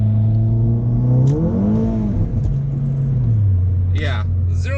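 A VW Golf MK7 accelerates hard on a damp road with its tyres spinning, the engine note climbing, dipping and rising again as it revs loud and close, with someone talking over it near the end.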